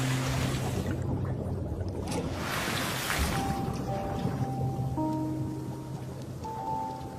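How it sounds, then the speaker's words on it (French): Ocean waves wash over a coral reef off a French Polynesian atoll. The reef gives a dense, steady crackling hiss, with faint low hums running underneath throughout. "Le bruit des vagues et des crépitements du récif"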